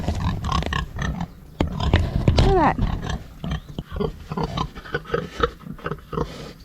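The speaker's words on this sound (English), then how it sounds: "I don't think the pigs have figured out yet that they're food" Pigs on a farm grunt and oink in a steady, close jumble of low snorts and one rising squeal, while a person talks briefly over them.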